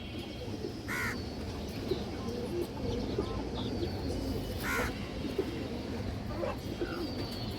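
Pigeons, including a hen, cooing softly at a pigeon seller's loft, brief coos surfacing twice over a steady noisy background with no talk.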